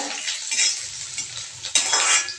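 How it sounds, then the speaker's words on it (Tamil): Small shallots and dried red chillies fry in a hot tempering pan while a spoon stirs them, giving close sizzling with distinct scraping and clinking strokes over a couple of seconds, without speech. "காஞ்ச வத்தல் போட்டு தாளிச்சிட்டு அதுக்கப்புறம் கொஞ்சம் சின்ன வெங்காயம் கட் பண்ணி வச்சுருக்கிறேன், அதையும் போட்டு நம்ம செஞ்சுக்கலாம், வதக்கி விட்டுக்கலாம்"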